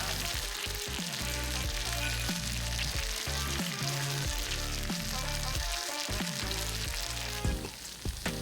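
Frozen pork slices sizzle loudly and steadily on a hot grill plate, a continuous crackling hiss that carries on throughout with no voices.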